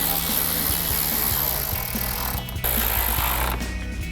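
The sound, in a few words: bolts driven in with a 7mm socket on a power tool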